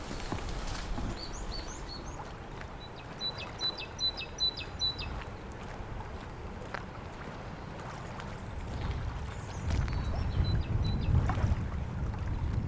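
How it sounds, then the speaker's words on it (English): Faint birdsong chirps in short trills high above, over a constant breezy outdoor background with wind rumble, in the Tamar Valley. "the birds singing above our heads"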